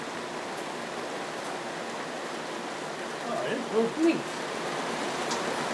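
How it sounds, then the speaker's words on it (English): Rain falls outdoors as a steady, even hiss throughout, and a brief murmur of voice rises over it near the end. "Sitting out here in the rain smoking"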